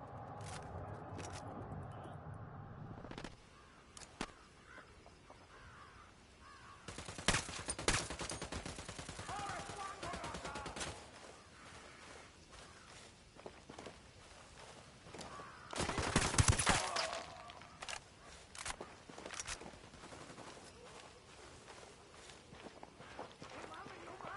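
Gunfire in Ghost Recon Wildlands, with scattered bursts of automatic fire and single shots at moderate distance among footsteps and movement, with voices talking intermittently throughout.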